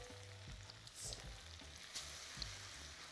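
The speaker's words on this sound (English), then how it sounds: "just fry up the rest of our latke" Potato latkes fry in a pan with a steady, close sizzle of hot oil. A few soft pops and stirring bumps break up the frying.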